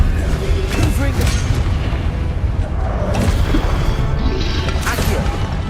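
Loud booming blasts of the Confringo explosive spell in the Hogwarts Legacy video game, layered over dense, continuous game audio with crashing impacts throughout.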